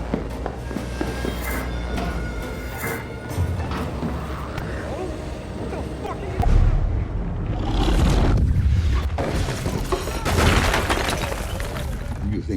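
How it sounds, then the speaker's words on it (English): A horror-series explosion involving a strange sphere brought in from the woods: heavy booms and crashing bursts erupt midway and again near the end, layered over a dense, noisy film soundtrack. "You think Alan set off the explosion?"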